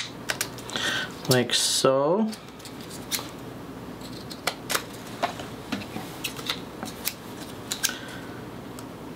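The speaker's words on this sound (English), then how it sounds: "So I'm just gonna flip this and cut my edges down" Scissors snip repeatedly through the edges of card stock while trimming die-cut scraps into mini note cards, giving a series of short, crisp cuts after a brief spoken remark.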